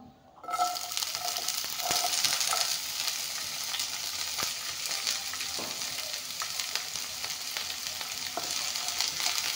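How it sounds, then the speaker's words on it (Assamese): Onion, carrot, ginger and garlic hit hot refined oil together and burst into a loud, continuous sizzle that holds steady throughout, with occasional stirring clicks and no talk. "এতিয়া পিঁয়াজ, গাজৰ, আদা নহৰুখিনি একেলগে ভাজি ল'ম।"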